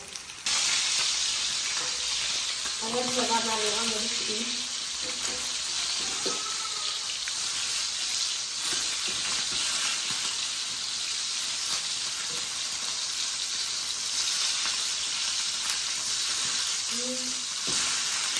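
Steady, loud sizzling of food fried with turmeric powder in a pan throughout, with occasional stirring noises and a brief bit of background voice.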